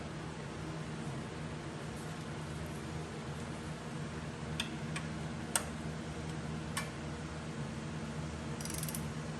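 A handful of sharp, isolated metallic clicks, like a ratchet or torque wrench, sound over a steady low hum while a bolt is tightened to about 30 foot-pounds on a 2021 Subaru Crosstrek during rear brake and oil service.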